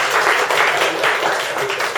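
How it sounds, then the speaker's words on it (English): An audience at a sparkling wine sustainability summit bursts into dense, sustained applause, many hands clapping together loudly and evenly for about two seconds. "Give all a round of applause"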